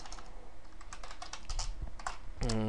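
Rapid typing clatters on a computer keyboard set up for Call of Duty Black Ops, with irregular bursts of keystrokes, close and fairly quiet, ending in a brief louder clack.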